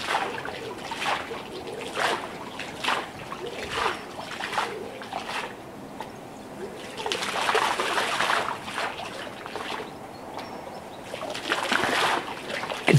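Water jets from a large musical fountain splash and rush steadily, swelling and easing in repeated surges as the pump speeds up and slows down.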